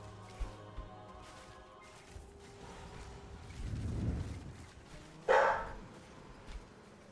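A dog barks a few times at a distance from a home during a live stream, faint sharp yaps spread across a quiet room tone with low rumbling in between, and no one speaking.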